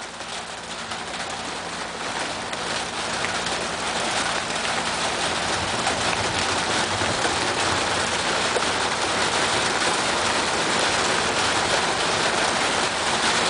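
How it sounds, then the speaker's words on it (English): Heavy rain and hail in a summer thunderstorm pour down in a dense, unbroken hiss that grows slightly louder over the clip, with no voices. "Looks like the intensity of the rain and hail is picking up again."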